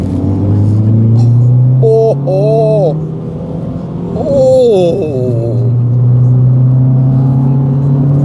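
A cheap hot hatch engine pulls hard under acceleration, a loud steady drone that rises and falls as it revs, with a man's excited exclamations over it.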